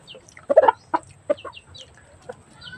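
Pet chickens kept in an enclosure cluck in a few short, close clusters of calls separated by brief quiet gaps.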